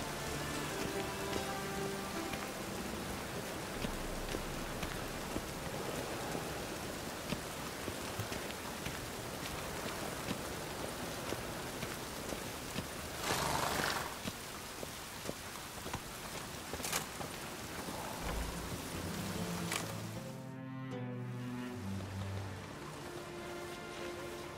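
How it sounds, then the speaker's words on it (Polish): Steady rain falls in The Witcher 3: Wild Hunt, a dense, continuous patter that runs the whole stretch. A few brief louder gusts break in, and a low tonal rumble appears near the end. No one speaks. "Dobrze, że popadało, lżej się po deszczu oddycham."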